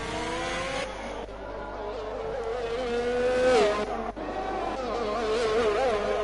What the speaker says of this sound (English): as he comes into the pits for the Haas Formula 1 team